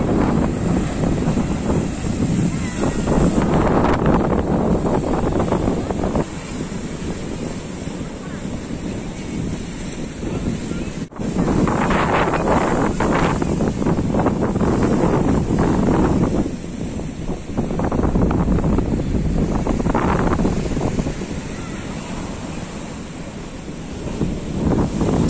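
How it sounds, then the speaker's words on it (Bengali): Big sea waves surging onto a beach during an evening high-water swell, a loud continuous roar of surf with rolling crashes, heavy wind buffeting the microphone throughout. "আজকে পুরো মন ভরে যাওয়ার মতন ঢেউ, বলে বোঝাতে পারবো না।"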